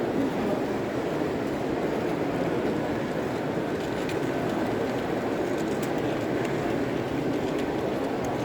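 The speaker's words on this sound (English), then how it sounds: "This O-gauge Finescale layout by the Alsager Railway Association runs trains from different eras from steam to diesel" O gauge finescale model train running on a large exhibition layout at a model railway show, a steady continuous rolling rumble and rail noise throughout, with no clear talk over it.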